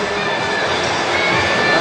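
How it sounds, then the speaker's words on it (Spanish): A crowd cheers and claps for a children's football team at a youth league closing ceremony, a loud, continuous burst of mixed shouting and applause with young voices in the blend. "Y le damos un fuerte aplauso"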